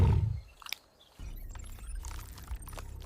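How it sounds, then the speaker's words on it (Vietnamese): African gorilla chewing bamboo shoots and leaves, heard as crunchy, crackling mastication with brittle snaps against a low rumble, close up and continuous, no voices. "một sinh vật chỉ cặm cụi bóc măng và ăn lá cây qua ngày"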